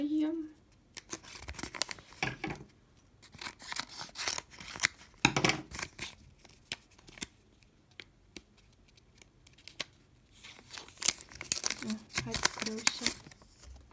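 Paper surprise packet being opened, with rustling, crinkling and tearing paper in irregular bursts, close and fairly quiet, and speech in between.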